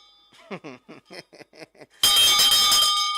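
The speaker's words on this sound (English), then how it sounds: "I ring the bell and wait me bell" Several short voiced sounds, like quick calls or chatter, followed by a sudden loud, bright metallic ringing, a hand bell sounding continuously close by at a morning devotion.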